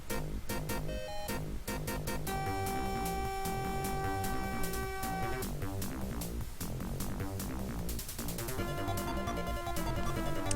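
A song rendered through Sound Blaster 16 synthesis under Windows 3.1, with bright, buzzy sustained tones and busy percussive notes, continuous and loud with no voices.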